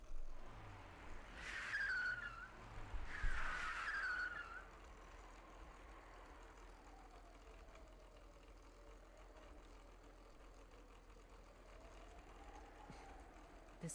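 Car engines from several black cars pulling up at a desolate graveyard early in the morning, a brief swell of motor noise with tire-like squeals over a few seconds, then fading into a quiet low hum.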